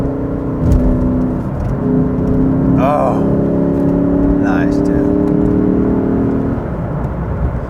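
A Lexus RC F engine hums and accelerates up close, its exhaust note rising steadily while someone speaks briefly over it.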